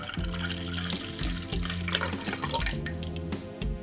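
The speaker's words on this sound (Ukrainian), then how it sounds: "Далі перемішуємо нашу суміш в чайничку і переливаємо в чашку." Apple filter coffee poured from a small teapot into a cup, a steady close liquid stream trickling and splashing for several seconds over a soft musical background.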